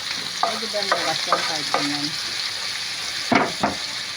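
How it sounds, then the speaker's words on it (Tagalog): Tomatoes sauté in a hot pan with onion, ginger and garlic, giving a steady close sizzle broken by repeated scraping stirs and a couple of sharper clatters near the end, with no talking. "Ito po, liligisin natin yan. Hayaan muna natin yung ating kamatis para maluto."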